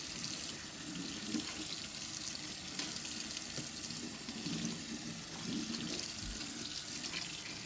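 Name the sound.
sink being rinsed with hot tap water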